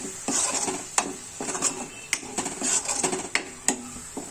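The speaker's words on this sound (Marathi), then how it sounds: "तर आता हे सगळं व्यवस्थित एकत्र करूया" Pav bhaji vegetables with a little salt being mixed in a pan over a medium gas flame, with repeated metal spoon clanks and scrapes against the pan over a soft sizzle, close and rhythmic, no voices.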